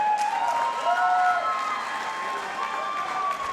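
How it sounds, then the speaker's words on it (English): A crowd at a fight event applauds and cheers after the bout, a steady wash of clapping from a distance with a faint background voice. "let's give a big round of applause for both of these gladiators"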